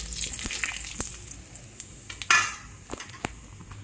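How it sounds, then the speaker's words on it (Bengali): Cumin seeds and a bay leaf sizzle in hot oil left over from frying koi fish for a Bengali curry, a soft steady crackle broken by occasional clinks of a utensil against the pan. "ভাজা হয়ে যাওয়ার পরে সেই তেলে আমি কিছুটা জিরে আর একটা তেজপাতা ফোড়নে দিয়ে"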